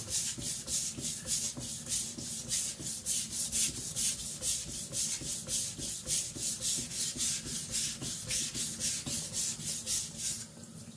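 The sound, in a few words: IKEA Chinese cleaver being sharpened on a whetstone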